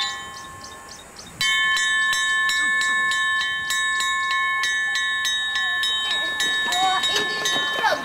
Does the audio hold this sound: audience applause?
no